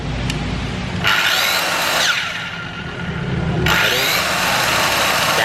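Hitachi wood-cutting saw run as a test, its motor whining up in two bursts with a short quieter spin-down between, heard close with no talk.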